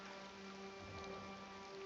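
Steady, soft rain falls continuously in Elder Scrolls Online as an even background hiss of drops on surfaces, faint and unbroken with no talking.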